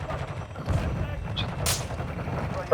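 Gunfire from Call of Duty: Modern Warfare II Warzone 2.0 DMZ mode, short bursts and sharp shots mixed with game ambience, some loud and close, others distant.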